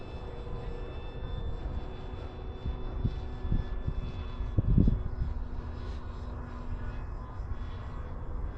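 DuraFly Tundra RC airplane flying overhead in gusty wind, a faint droning engine hum with a brief swell as it passes near, mixed with wind rumble on the microphone.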